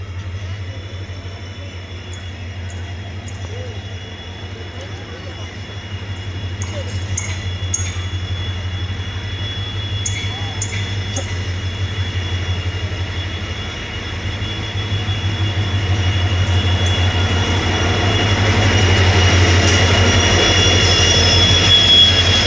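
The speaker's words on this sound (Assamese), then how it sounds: "ট্ৰেইন আহি গ'ল" A passenger train arrives at Kamakhya station in Guwahati, a low, steady engine rumble that slowly swells louder as it draws near, with a faint high tone and scattered clanks over the station's background noise.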